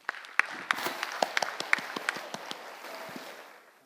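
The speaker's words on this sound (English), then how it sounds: "Can you please applause that?" A small audience at a motivational talk gives sparse applause: distinct individual claps ring out near and uneven, then thin into a soft patter that fades away.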